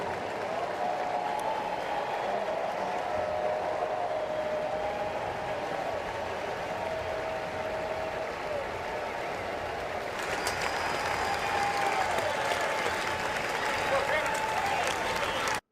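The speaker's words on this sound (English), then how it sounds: "he should still get a heck of an ovation from this Nationals Park crowd" A baseball crowd at Nationals Park, Washington, gives a sustained ovation for a left-handed pitcher during a Diamondbacks at Nationals game. Broad, steady applause and cheering fill the whole stretch, swelling slightly toward the end.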